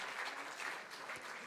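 Dense applause from an audience at an official appointment-letter distribution ceremony in Jharkhand, a steady, fairly loud wash of many hands clapping with no talk over it.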